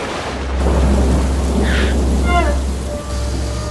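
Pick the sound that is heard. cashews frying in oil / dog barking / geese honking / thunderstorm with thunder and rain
thunderstorm with thunder and rain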